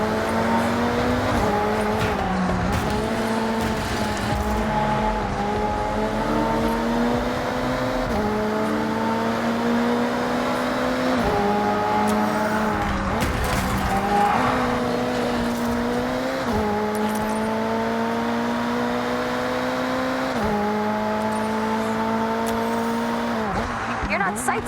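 Race cars in the video game Forza Horizon 6, a loud sustained engine roar that rises through the revs and drops at each gear shift, one car close throughout, with faint tire squeal.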